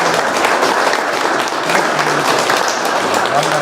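Sustained applause from an audience at a Kazakh family sports club event, a steady loud wash of many hands clapping with faint crowd noise throughout.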